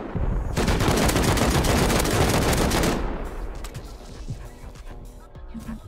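Rapid automatic AK rifle fire in a multiplayer shooter game, a loud dense burst lasting about three seconds before cutting off, followed by quieter game sounds.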